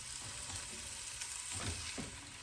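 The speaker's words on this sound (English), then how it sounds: "After a minute or two browning the pancetta" Pancetta browns in a frying pan with a steady, close crackling sizzle, with a couple of soft scraping stirs near the end.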